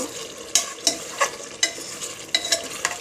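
Chicken meat being stirred in a Hawkins pressure cooker, a spoon scraping and clanking against the pot in regular strokes over a soft sizzle, close and fairly loud.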